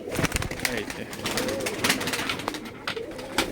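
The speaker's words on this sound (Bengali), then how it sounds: "এই যে আমার হাতে এখন কবুতর" Soft coos from Giribaz pigeons and rustling wings close by on a pigeon farm, with a person speaking over them throughout.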